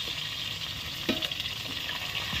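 Chicken legs frying in hot oil, a continuous close sizzle with crackling bursts and a few scraping stirs, no voices.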